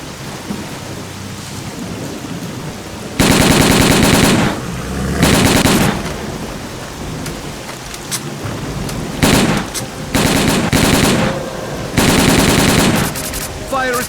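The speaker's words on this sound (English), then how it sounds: "Check your weapons and fire at will." Loud bursts of machine gun fire from the S.T.A.L.K.E.R.: Call of Pripyat video game, several long volleys repeating over a steady rumbling, rain-like backdrop.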